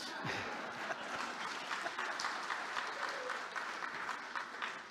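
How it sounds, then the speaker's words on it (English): A roomful of people at a semiconductor conference applaud steadily, a dense continuous patter of clapping that holds at an even level throughout. "you want to clap, please go ahead and clap"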